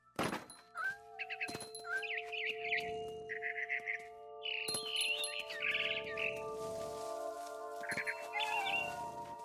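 A barn swallow chirps in the video game What Remains of Edith Finch, giving short bursts of bright twittering calls spread through the clip, with thumps and steady tonal game ambience underneath.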